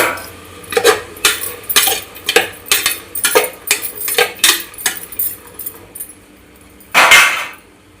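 Vegetables and beans frying in a pan for methi pulao, stirred with a metal spoon that gives about a dozen loud, rhythmic scrapes and clinks, close up, with a longer scrape near the end.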